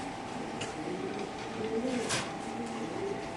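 Domestic pigeons at a small pigeon farm coo softly in low murmuring bursts, faint and a little distant, with a steady background hum and a brief rustle midway.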